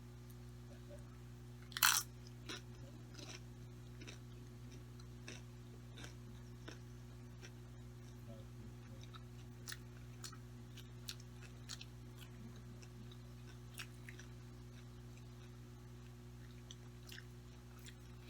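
Someone eats BBQ cheeseburger nachos with guacamole, one loud crunching bite followed by scattered quieter chews and crunches over a steady low hum.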